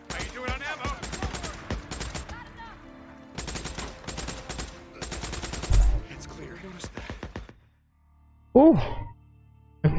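Rapid machine gun fire rattles in loud, dense bursts during combat in the video game Days Gone, stopping and restarting several times, with brief voices in the game.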